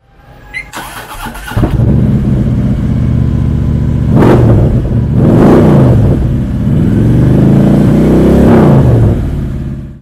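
A 2016 Harley-Davidson Street Glide Special FLHXS motorcycle engine cranks and starts, then idles with a deep loud rumble and several revs rising and falling, close and alone.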